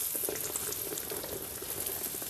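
Soft, steady sizzling and bubbling of belyashi (meat-filled dough pastries) frying in hot oil in a pan, crackling quietly throughout with no voices.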